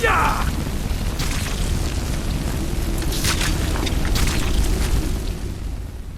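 Fire spell cast against frostbite spiders in Skyrim, a sustained roaring, rumbling blast that holds steady for several seconds, loud and close.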